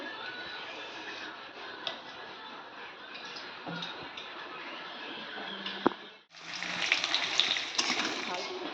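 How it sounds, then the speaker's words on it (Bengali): Potatoes frying in oil in a kadai give a steady, close hiss of bubbling that carries on throughout, growing brighter and denser near the end, with small clinks mixed in. "আমি আলুগুলো এখন ভেজে নেবো কড়াইতে তেল দিয়ে দিচ্ছি"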